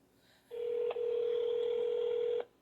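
An outgoing phone call ringing: one steady electronic ringback tone lasts about two seconds over a quiet background, heard close as if through the handset.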